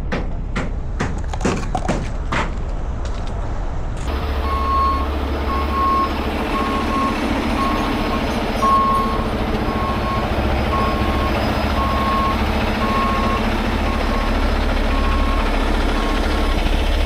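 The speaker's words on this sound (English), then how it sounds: "I'm gonna move my truck for this one." Truck engine rumbling low and steady with a loud, regular reversing beep repeating throughout, after a run of sharp clanks at the start.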